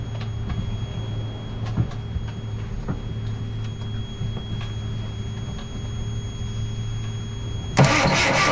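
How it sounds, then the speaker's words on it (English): A boat's starter motor cranks directly without its solenoid, a steady mid-pitched whirring drone throughout, ending in a sudden louder burst of noise. "at least we'll see if the starter motor itself, which we do not have a replacement for, will turn"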